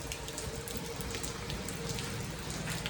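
Heavy rain falls in a village near Junagadh and patters on surfaces, a dense, continuous hiss with scattered droplet taps and no voices.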